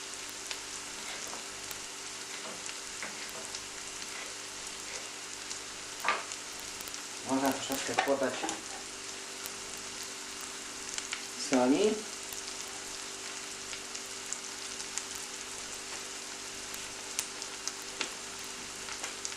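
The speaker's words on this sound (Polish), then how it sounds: "Troszeczkę nam się to musi smażyć" Ingredients for a pear casserole fry in a pan with a soft, continuous sizzle. Two short clattering stirs break through around the middle. No one speaks over it.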